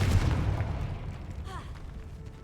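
A Confringo blasting spell explodes in Hogwarts Legacy with a low booming burst at the start, then a decaying rumble and a brief bright magical shimmer as it fades.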